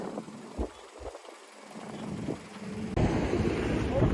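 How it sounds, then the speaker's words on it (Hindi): Strong wind at Magnetic Hill in Ladakh buffets the microphone in gusts, with rumbling bursts swelling louder and turning into a constant roar toward the end. "बहुत तेज हवा चल रही है"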